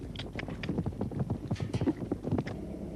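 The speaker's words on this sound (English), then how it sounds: "Most of these horses seem pretty wild to me" Horses' hooves clip-clopping on hard ground in a quick, uneven rhythm of many overlapping strikes, close by and fairly quiet, with no talk over them.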